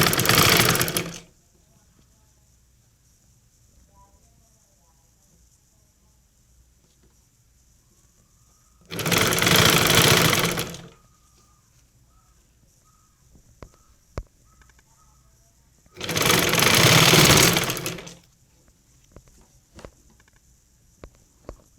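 A sewing machine stitches thread piping on a churidar top, running in three loud whirring bursts of one to two seconds each, separated by long quiet gaps with faint handling sounds.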